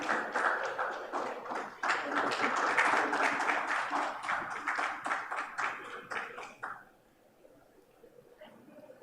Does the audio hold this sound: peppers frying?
no